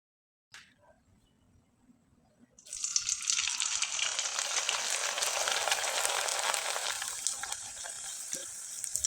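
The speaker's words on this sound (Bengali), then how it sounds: "এখন আপনাদের কয়েকটা পিঠা আমি তেলে ভেজে দেখিয়ে দিচ্ছি" Rice-flour pitha dropped into hot oil, starting with a faint clatter, then a sudden loud, steady hiss of bubbling frying that carries on to the end.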